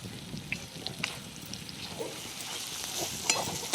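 Green chilies fry in hot oil as turmeric and peanut powder go in, a soft crackling sizzle with scattered stirring scrapes and clinks close by, no talking.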